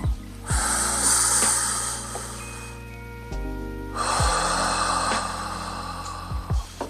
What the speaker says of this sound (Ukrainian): Це плавний глибокий вдох.